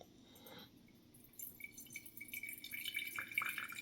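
Water being poured in a thin stream over coffee grounds, starting softly and growing steadier and brighter toward the end, with light dripping and trickling close by.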